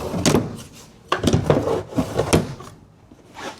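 Cabinet doors inside a 2026 Cherokee Grey Wolf 27LH RV open and shut in a series of close, sharp wooden knocks and clacks, with brief rustling between them and no talking.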